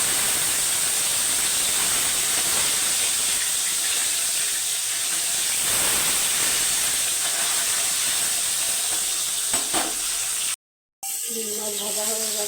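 Rohu fish sizzling in hot oil in a wok, a continuous close hiss of frying that stays level for the whole stretch, broken by a short gap near the end and some faint handling sounds.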